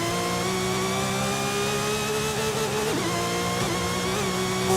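A Gunther Werks GW 911 Carrera C2 400R sports car driving fast, its engine giving a steady, loud, close drone with a slight dip in pitch midway, heard alone without talk.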